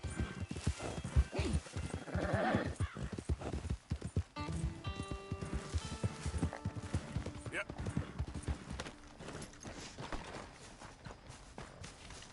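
A horse in the video game Red Dead Redemption 2 walks with a steady clip-clop of hooves and gives a clear whinny. Someone talks over the hoofbeats, and game music plays in the background.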